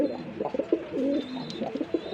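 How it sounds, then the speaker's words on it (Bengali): Soft, repeated cooing of pigeons at a pigeon farm, several close throaty coos in a quick uneven rhythm, fairly quiet with no talk. "এখানে আরেক জোড়া কবুতর আছে দেখেন"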